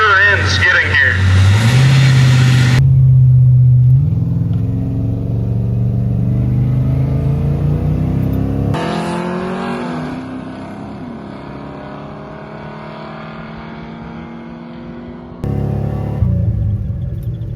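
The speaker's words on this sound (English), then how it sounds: "Cars to go down the track today." Loud drag racing cars at a drag strip, a deep roaring engine with rising and falling whines as it revs and pulls away, fading gradually, then a sudden louder burst of engine noise near the end.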